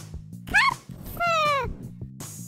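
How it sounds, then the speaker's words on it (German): A cat meows twice outdoors during a family hike, a short rising-falling call and then a longer drawn-out meow, close and clear, with quiet murmuring voices between the calls. "Mama, schau mal, da ist eine Katze."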